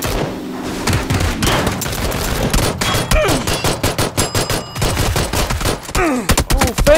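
Rapid pistol shots crack out in PUBG, a dense run of sharp reports fired in quick bursts, loud and close, with a few deeper thumps mixed in.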